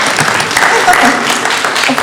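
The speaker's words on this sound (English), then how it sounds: "I'm not used to applause." Loud applause from a debate audience after a speech, steady clapping from the crowd with speech partly overlapping it.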